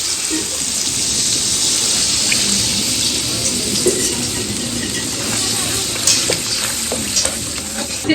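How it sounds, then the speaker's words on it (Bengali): A spice paste of coriander, cumin, chili and turmeric hits hot oil in a pan with a loud, continuous, close sizzle and bubbling, plus occasional clinks of a utensil. Nobody speaks. "এবার ধনে জিরে লঙ্কা হলুদ একসাথে গুলে নিয়ে দিয়ে দিচ্ছি ঝালের মশলা রেডি এবার জল দিয়ে দিলাম"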